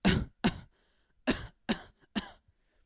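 A beatboxer imitates a short cough with his voice, giving five quick, sharp bursts in an uneven rhythm, close and clear with silence between them.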